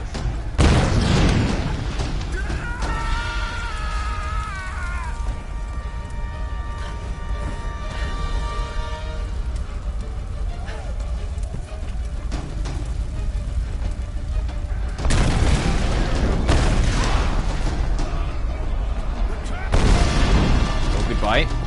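A heavy explosion rumbles through a mine facility in the video game Tomb Raider (2013), starting with a loud low boom, then sustained roaring debris and later bursts, with a voice speaking over parts of it.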